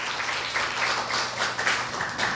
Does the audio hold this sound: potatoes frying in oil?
no